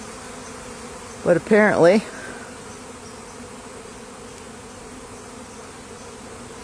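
A swarm of bees buzzes at a hive box, a low steady hum running throughout while a person briefly speaks over it.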